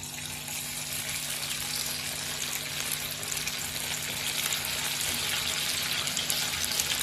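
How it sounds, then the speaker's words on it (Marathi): Pieces of leftover rice breakfast shallow frying in oil in a pan, giving a steady, even sizzle and hiss that runs unbroken throughout, with no voices. "आता आपल्याला हे शॅलो फ्राय करून घ्यायचं"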